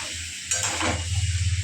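A short burst of potatoes frying over a medium gas flame, a steady sizzling hiss with a brief scrape of stirring in the pan.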